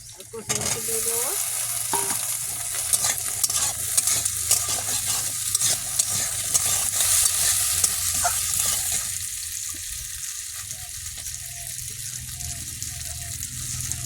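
Snakehead fish sizzles in a frying pan, a loud, dense hiss with spatula scraping and stirring up close, softening slightly toward the end.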